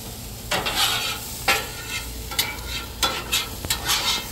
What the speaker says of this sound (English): I'm going to mix them all up. Give them a little mix.